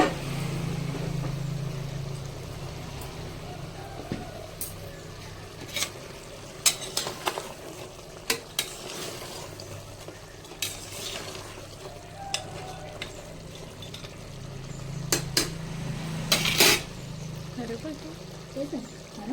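Spicy mutton curry simmering in a pot, a low steady bubbling hiss under scattered metallic scrapes and clinks of a spoon stirring, fairly quiet and close, with occasional voices nearby.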